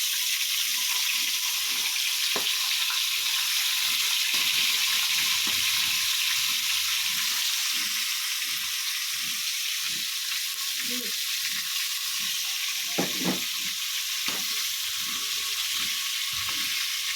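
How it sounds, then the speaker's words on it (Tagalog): Bangus milkfish frying in oil in a home kitchen, giving a continuous near sizzle and crackle with soft stirring clinks scattered through it. "Prito rin tayo ng bangos."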